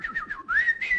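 A person whistles to imitate birds singing in a forest: a few short rising and falling chirps, then longer sustained warbling notes, close and clear with no other sound.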